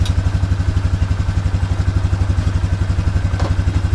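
A 1995 Polaris Magnum 425 ATV engine idles steadily up close, its fast, even exhaust pulses loud and regular throughout with no talk.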